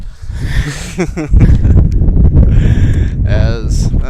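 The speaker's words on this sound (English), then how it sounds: "it's pretty windy going on as you can hear right now in my headphones" Gusty wind buffets the microphone in loud, rumbling bursts at a high school baseball game, with a person talking over the steady roar.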